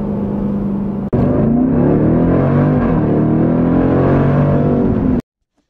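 A 2018 Jeep Grand Cherokee Trackhawk's supercharged 707-horsepower V8 accelerating hard, a loud close rising engine roar and supercharger whine with a brief dip at a shift, ending abruptly.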